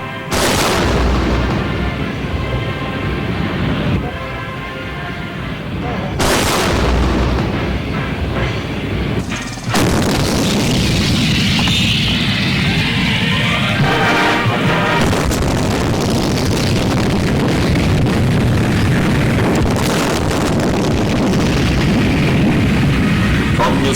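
A tank gun fires at a target in heavy, booming blasts, with a couple of loud reports followed by long rumbling echoes and sustained roaring noise across the range.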